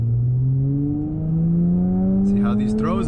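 A short-shifted Acura TL pulls hard in second gear, its engine note rising steadily and loudly from inside the cabin, with someone speaking briefly near the end.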